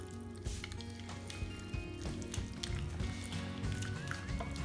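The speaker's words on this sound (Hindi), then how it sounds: "घोल तैयार कर रही हूँ मैं, ताकि इसमें कोई लम्स नहीं रहे।" Flour batter for mawa malpua, mixed with milk, water and sugar, is stirred by hand in a bowl, making continuous wet squishing, sloshing and small clicking sounds close by.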